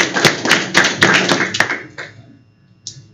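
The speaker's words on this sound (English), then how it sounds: "I'm going to give you a round of applause" A small group claps at a county board of education meeting, a few seconds of close, distinct hand claps that thin out and stop, followed by one last stray clap.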